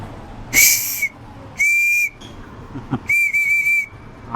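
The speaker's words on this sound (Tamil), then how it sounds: "இது என்ன ஐட்டம்? இது வந்து விசில். விசில் அடிக்கணும்." An old brass whistle gives three shrill, loud blasts up close, the first short, the second steady, the third longer and slightly warbling, with quiet gaps between.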